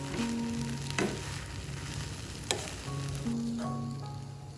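Chicken hakka noodles with egg sizzle and crackle as they are stir-fried in a pan, a steady close frying hiss broken by a couple of sharp utensil clanks, with no talking.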